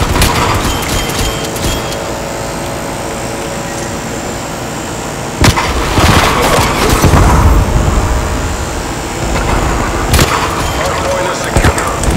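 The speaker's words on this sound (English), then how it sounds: "I'm using a sniper because I want to use this" Shots from a ZRG 20mm sniper rifle in a video game on the Yamentao map: a few sharp, heavy cracks spaced seconds apart over ongoing game noise, with a voice talking at times.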